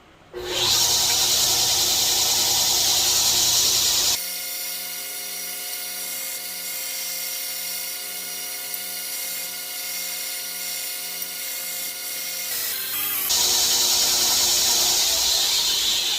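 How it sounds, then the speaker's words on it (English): A belt grinder fitted with a coarse 60 grit belt grinds the main bevel of a knife, a steady loud abrasive hiss and whine running throughout, shifting in tone as the steel presses against the belt midway and easing off near the end. "start grinding the main bevel here"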